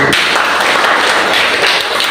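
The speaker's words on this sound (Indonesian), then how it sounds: "Tepuk tangan buat diri kalian." A classroom of students in Indonesia applauds themselves, a short, loud, steady burst of group clapping with no break.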